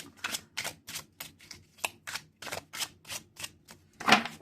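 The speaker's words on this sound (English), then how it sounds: "Let's shuffle them up." Tarot cards are shuffled in quick, evenly spaced riffling snaps, about a dozen short crisp bursts close by, ending on one slightly louder slap.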